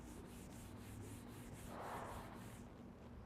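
A hand rubs back and forth over rough, contaminated car paint before claying, giving a faint, steady, gritty rasp in rhythmic strokes, close up and without talk.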